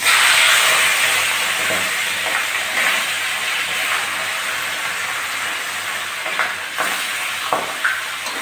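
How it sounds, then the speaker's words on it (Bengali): A rohu fish head fries in hot oil in a kadai, giving a loud, steady hiss that stays close and constant throughout, with slight spatters near the end. "কড়া বসিয়ে দিয়ে তেল গরম হয়ে গেছে, এখন আস্তে আস্তে দিয়ে প্রথমে মাথাটা ভেজে নেব।"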